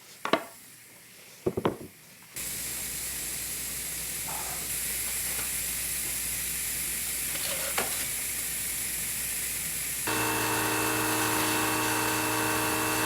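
Epoxy resin over packed newspaper bubbling from exothermic curing heat, a dense continuous sizzling hiss like frying that rises after a few faint knocks and grows fuller near the end.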